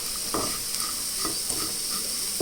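Potato fry seasoned with chilli powder and salt being stirred in a hot pan, a constant sizzle with a few scraping strokes of the spoon at intervals, close and steady, no speech.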